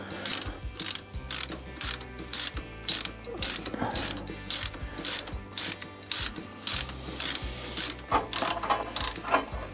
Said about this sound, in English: I'm going to take out the other spark plugs to make it easier to rotate